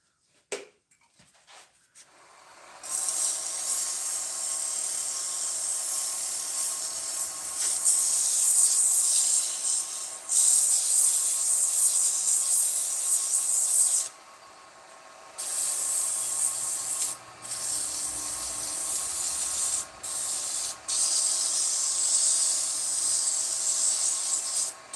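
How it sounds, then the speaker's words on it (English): Close, scratchy rubbing of finer sandpaper across a wooden succulent holder, running in long steady passes broken by a few brief pauses, with no talking. "Hit it with the finer sandpaper now."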